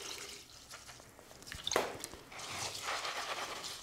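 Tap water poured onto Seramis clay granules, a soft trickling and dripping pour with a brief louder splash partway through, close and fairly quiet with no talking.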